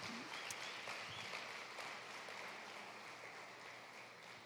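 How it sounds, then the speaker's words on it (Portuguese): Faint, distant applause from a church congregation praising Jesus, a steady wash of clapping that fades slowly. "Pode aplaudir a Jesus bem forte."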